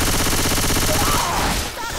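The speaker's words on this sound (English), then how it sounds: "How did he make it through that, like, barrage of gunfire?" Dense, continuous automatic gunfire from several weapons in Left 4 Dead 2, loud and unbroken for over a second before tapering off, with voices briefly underneath.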